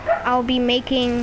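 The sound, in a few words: dog Rosie barking in the background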